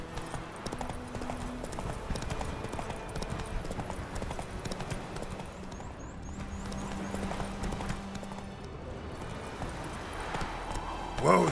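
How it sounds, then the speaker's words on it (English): Clip-clop of Roach the horse's hooves galloping in The Witcher 3 video game, a steady rapid rhythm throughout with game ambience and brief tonal effects, loudest near the end. "Whoa there, Roach"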